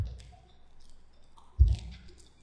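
A computer mouse click during a Microsoft Word 2013 tutorial on a PC, a single soft click after quiet room tone, heard alone without speech.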